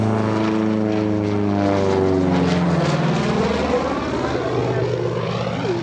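A P-47D Thunderbolt's air-cooled piston engine drones loudly and steadily, its pitch shifting as it passes close by at EAA AirVenture 2025.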